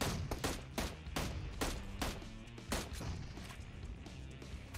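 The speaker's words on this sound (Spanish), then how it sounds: "pegué dos tiros, lo rematé" Video game gunfire rings out in rapid, repeated sharp bursts of shots, loud and close, continuing across the whole stretch.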